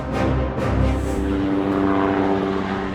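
A light military helicopter in flight gives a loud, close, continuous engine drone with a throbbing rotor pulse, swelling slightly early on and then holding steady, with no voices.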